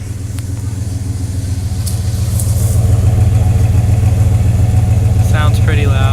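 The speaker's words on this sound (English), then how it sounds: "Let me show y'all the exhaust. It's just a V8." A 1998 Dodge Ram pickup's V8 runs with a loud, steady exhaust rumble close to the microphone, its low throb swelling slightly and holding constant throughout.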